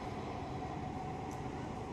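An underground Mumbai Aqua Line 3 metro train pulls away from a station, a steady broadband rumble and hiss heard from inside the carriage.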